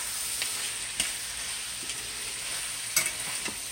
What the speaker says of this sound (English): I'm going to go ahead and dump all my beef in there, okay?